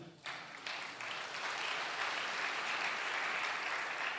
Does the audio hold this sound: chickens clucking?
no